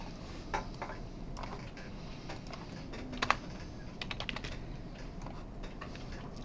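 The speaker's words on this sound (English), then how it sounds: "while you're typing that in" Fingers tap on a computer keyboard during a lecture, faint, irregular clicks with a few quick flurries of keystrokes over a quiet room hum.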